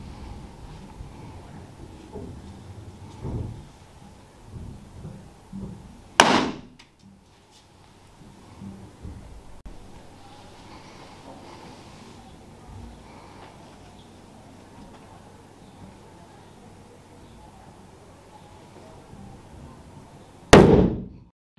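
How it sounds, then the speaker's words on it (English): A hydrogen-filled balloon ignited with a lit splint in a school science demonstration bursts with a sudden loud bang at about six seconds, followed later by a second sharp bang near the end, amid low room noise. "The green one caused an explosion when I added the lit splint, so that one must be the explosive hydrogen"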